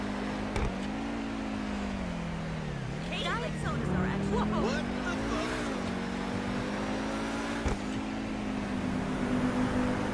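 The Pegasi Tempesta in GTA 5 drives with a steady engine drone that rises and falls through gear changes, joined by a sharp transient or two, while someone talks over it.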